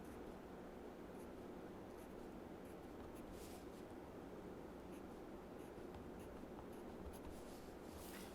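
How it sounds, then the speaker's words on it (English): A pencil draws short dotted lines on paper during an engineering drawing exercise, producing faint, steady scratching and rubbing with small repeated strokes. No voices are heard. "you have to draw as a dotted line"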